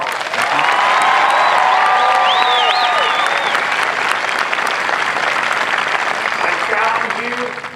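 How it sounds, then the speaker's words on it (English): A large crowd claps loudly and steadily at an Air Force basic military training graduation parade, with whoops and cheers rising above the sustained applause before it slowly tapers. "One more round of applause."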